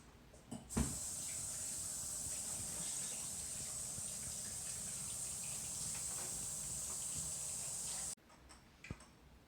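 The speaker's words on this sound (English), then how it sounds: "Let's get this sprayed down" A spray bottle mists a propagation tank with a steady, close hiss for several seconds, starting and stopping with faint clicks.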